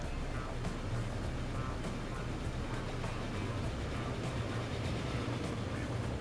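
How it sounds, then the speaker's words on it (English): Steam train in the Transport Fever video game, a faint steady rumble in the background with soft regular clicks, no voice over it. "I hear a steam train in the background."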